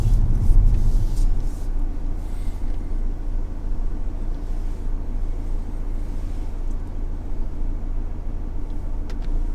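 A car on a driving lesson circles slowly around a car park, its engine and road noise forming a steady, continuous rumble up close with no talk.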